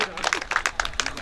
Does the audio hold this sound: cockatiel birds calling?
no